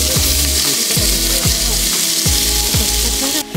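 Oil sizzles loudly as chicken fries in a large pot at a campsite, with repeated low thumps of stirring or moving pieces, steady and close, no talking.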